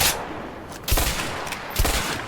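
Pump-action shotgun blasts in the video game A Way Out: two loud, sharp shots about a second apart, each cutting through a steady, noisy background of gameplay.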